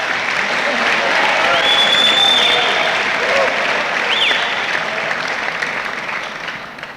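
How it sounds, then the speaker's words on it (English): Audience applause at a 1987 Gilman Founders Day ceremony, a steady, full burst of clapping that holds for several seconds before gradually thinning out toward the end. "Let's have a round of applause."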